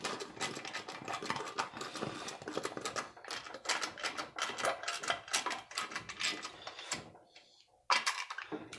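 Bolts are tightened on a Briggs & Stratton opposed-twin engine during crank seal installation, a dense run of rapid close ratcheting clicks that pauses briefly near the end, then resumes.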